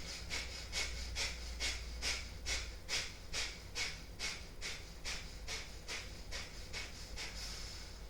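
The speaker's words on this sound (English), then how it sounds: "let's do a few cycles of breath of fire, snapping the inhale in and out the nose quickly" Rapid yoga breath of fire, with quick forceful breaths snapped in and out through the nose in a steady rhythm of about two per second, close and soft, with no talking.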